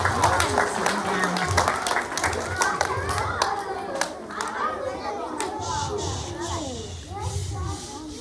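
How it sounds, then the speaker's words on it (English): Students and staff clap at a school assembly, with dense applause mixed with children's chatter and an adult voice speaking over it. "Big round of applause for the 3/4 students"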